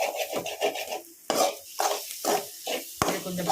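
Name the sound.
stirring and sautéing masala in oil in a pan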